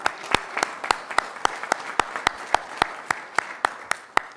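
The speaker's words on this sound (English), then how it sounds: "so give yourself a round of applause." A congregation answers with sparse, fairly slow applause, a thin run of distinct individual claps at an even pace that sounds like only a few people clapping in a room.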